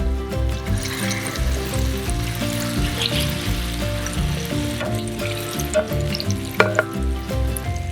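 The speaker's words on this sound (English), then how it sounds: "so I'm going to get the pan out of the oven. See how it sizzles?" Chickpea-flour farinata batter with sweet potato and kale sizzles and crackles steadily in a hot pan fresh from the oven, a loud continuous hiss with scattered pops and a few clinks.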